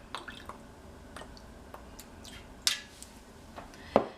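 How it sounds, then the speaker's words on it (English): Worcestershire sauce is poured into a roast pot holding a shallow layer of water, giving faint scattered drips and soft liquid splashes, with a couple of sharper spatters toward the end, quiet and close. "now I'm going to add some Worcestershire sauce"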